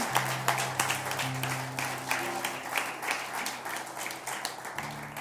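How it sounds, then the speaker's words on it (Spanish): A church congregation applauds steadily during a worship service while sustained keyboard or organ tones play underneath, the clapping dense and moderately close throughout. "Dale un aplauso a este Señor."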